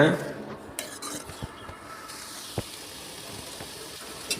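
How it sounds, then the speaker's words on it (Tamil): Shallots, onion, garlic and ginger sauté in a kadai, a soft sizzle under scraping and clinks of a spoon against the metal pan, with occasional sharper taps. "அதே கடாயில் சின்ன வெங்காயம் பெரிய வெங்காயம் பூண்டு இஞ்சி இது எல்லாத்தையுமே சேர்த்து நல்லா வதக்கி விட்டுறலாங்க"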